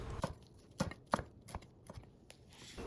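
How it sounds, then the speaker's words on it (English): A knife slices green onion and cilantro on a cutting board with a series of crisp, close chops at an uneven rhythm, fairly quiet, with no talking. "Slice green onion and cilantro."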